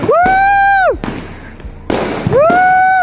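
New Year's fireworks go off close by, near a house: loud whistling rockets scream in two long, steady tones, with sharp crackling bursts between them.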